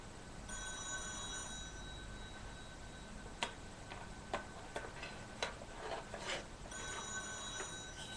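A telephone bell rings in a quiet room, a steady trilling ring at the start and again near the end, with scattered ticks and taps in between and no talking.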